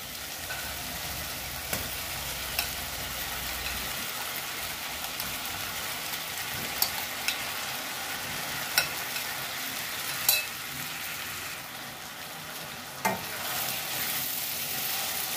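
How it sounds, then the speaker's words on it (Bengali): Marinated taro (kochu) frying in spice masala in a pan, with a continuous soft sizzle and crackle and a few sharp clicks of a spatula stirring against the pan, no voices. "মশলাটা ভাজা হয়ে গেছে, এবার ম্যারিনেট করা কচুটা আমি এখানে দিয়ে দেবো।"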